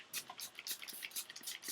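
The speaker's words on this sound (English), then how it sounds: "And spray some water on the foam." A few short hissing spritzes from a handheld water bottle spray onto foam, soft close puffs in an irregular rhythm with no talk.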